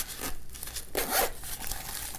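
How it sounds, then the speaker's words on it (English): A zipper is pulled open on a small, simple pouch from a fragrance department, giving a couple of brief ripping zips close by, with no speech. "It's pretty cute, simple. With a zipper."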